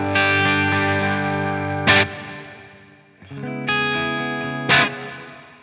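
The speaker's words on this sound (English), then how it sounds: "here we go with the larger reverb sound with no delay" An electric guitar plays through a Line 6 Helix with a large reverb and no delay, giving two sustained chords that ring out and wash into a long tail, each cut by a sharp strummed attack.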